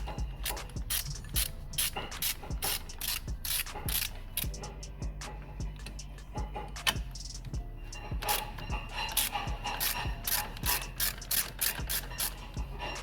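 Rapid ratcheting clicks from a hand ratchet loosening bolts on a Skoda Rapid engine during cam and crank oil seal replacement, with repeated close, loud bursts of pawl clicking and brief pauses between strokes, no talk.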